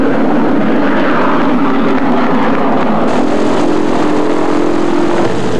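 PBY flying boat aircraft departing for an NC-4 transatlantic reenactment, a loud continuous propeller engine roar that holds steady close by and shifts slightly in tone midway, with no voices.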